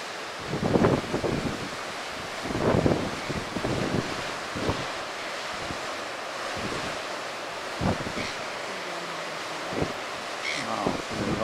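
Ocean waves break and wash onto a sandy, rocky beach at Friendly Beaches, with a steady roar of surf, several louder crashing swells and constant wind buffeting the microphone.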